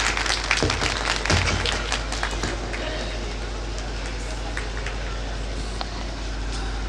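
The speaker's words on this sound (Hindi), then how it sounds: "आप जोरदार तालियों से उनका इस्तकबाल करें" An audience at a Meerut mushaira in 2024 applauds to welcome a poet, a dense, loud wash of clapping that swells at first, then settles into steady sustained applause.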